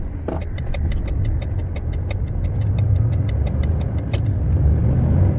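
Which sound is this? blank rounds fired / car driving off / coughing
car driving off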